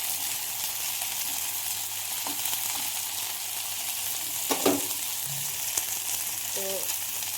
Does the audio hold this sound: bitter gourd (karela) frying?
yes